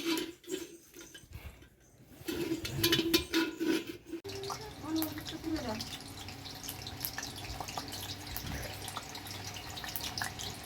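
Kitchen utensils such as a spatula and ladle being rinsed under a running tap, with splashing and dripping water close by and people talking over it.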